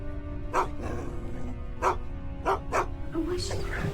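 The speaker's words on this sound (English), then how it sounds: "The dog just started just barking and just going crazy and just snarling." A dog barks several times in sharp, separate yaps at moderate distance, spread irregularly across the moment, over a steady background hum with a faint voice underneath.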